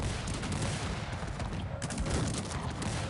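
Cannons and massed musket gunfire roar through a Cossacks 3 battle, a dense, continuous barrage of overlapping shots and booms filling the whole stretch without pause.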